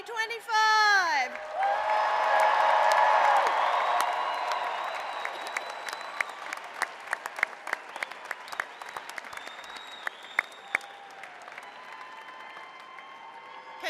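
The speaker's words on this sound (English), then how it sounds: "a big round of applause for the class of" A commencement crowd applauds the graduating class of 2025, with a voice heard briefly at the start, then sustained dense clapping that gradually thins into scattered individual claps.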